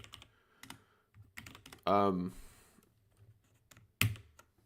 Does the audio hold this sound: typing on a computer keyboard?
yes